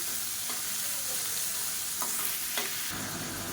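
Finely chopped onions sizzle in a pan for tomato chutney as they are stirred, a constant close frying hiss broken by a few scraping strokes of the spoon.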